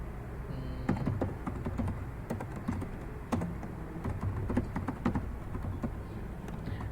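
Typing on a computer keyboard while laying out text for a vintage logo design, a steady patter of fairly quiet key clicks with occasional louder thunks, close by and without speech.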